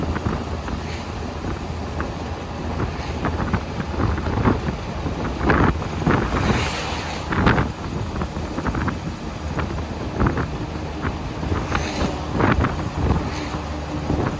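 A 1924 Packard Single Six touring sedan cruising at about 35 mph, with a continuous rumbling drive noise mixed with heavy wind buffeting and road rattle, steady and close throughout with no talk.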